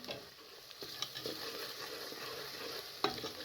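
Onions and dry ground spices frying in a pan for a dal mash and peas curry, with a steady sizzle and a few scraping stirs, including a sharper clink near the end; no talking.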